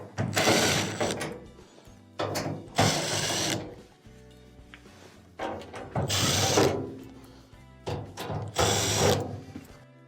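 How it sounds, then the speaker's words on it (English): A Phillips screwdriver backing screws out of the front panel of a clothes dryer, sounding as several close, loud ratcheting bursts separated by short pauses. "Now, you'll have to remove these Phillips screws on the front."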